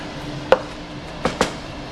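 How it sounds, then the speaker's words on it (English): A kitchen knife chopping crushed garlic on a cutting board, three sharp, close knocks spaced irregularly, the first standing alone and the last two in quick succession, with no talking. "which mashes the garlic out, which makes it easier to chop it up"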